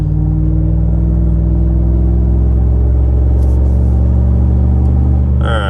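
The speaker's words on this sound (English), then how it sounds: "Flowmaster exhaust." A Ford F-150 with Flowmaster exhaust rumbles deeply as it drives, a steady loud drone that holds throughout with brief hiss near the end.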